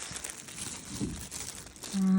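Crinkly plastic rustling as a packet is handled and pulled open, soft and close, with a brief louder crunch midway.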